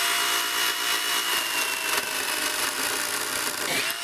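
A cordless chainsaw with a guide bar and spiked bumper cuts through a tree trunk a little over 10 cm thick, giving a steady, loud high-pitched whine that holds throughout with only slight dips in load.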